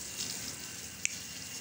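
Water poured from a container onto a prayer mat being hand-washed outdoors with detergent, a steady soft splashing wash at moderate distance with one brief sharp knock partway through.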